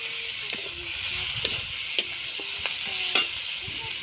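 Turmeric powder is stirred into a Bengali fish curry in a pan, with a steady soft sizzle and light scraping stirs and occasional utensil taps. No talking.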